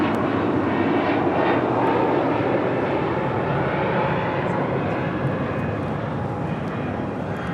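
Airbus A330neo jet from Tokyo Haneda at LAX, a loud continuous engine roar filling the air at close range, steady throughout.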